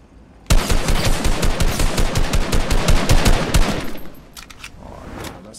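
Rapid automatic gunfire in the Fortnite battle royale video game, a loud sustained burst of closely spaced shots lasting about three seconds, then fading into quieter scattered sounds.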